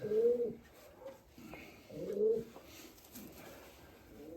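A pigeon coos nearby in a loft, two soft, throaty rolling calls a couple of seconds apart, close and clear over a quiet background.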